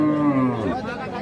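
A Sahiwal-breed cow at a cattle market in Raniganj gives one close, drawn-out moo that falls in pitch and fades, with low crowd murmur behind it.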